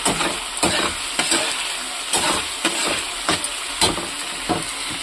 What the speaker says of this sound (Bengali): এটা একটুখানি ভাজবো